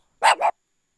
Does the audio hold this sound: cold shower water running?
no